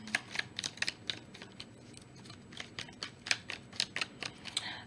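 Quick, crisp clicking bursts of tarot cards being shuffled, coming in uneven clusters, close and fairly quiet.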